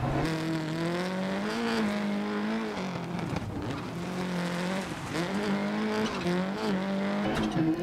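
A Subaru rally car on a rocky stage in DiRT Rally 2.0, engine revving up and down through gear changes with loud, continuous drone and occasional tire noise.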